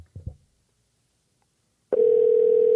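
A steady ringback tone on an outgoing cold call starts abruptly after a brief low sound and a pause, then holds as one loud, unbroken tone to the end.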